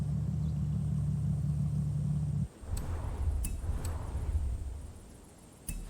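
Subaru BRZ fitted with a flat-six engine in Forza Horizon 5, a steady humming idle that cuts off into deeper rumbling revs with a few sharp clicks, close and moderately loud.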